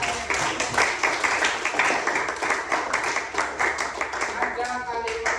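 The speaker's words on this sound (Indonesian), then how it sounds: "tepuk tangan yang meriah" Lively applause from a school audience, many hands clapping in a dense, fast patter that stays steady for the whole stretch.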